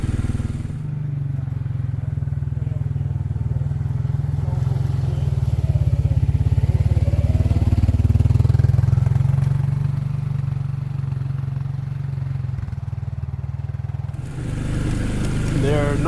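An ATV rumbles down an off-road trail at night, its engine droning steadily close by, swelling louder midway and then easing back, with faint rattles and no clear talk.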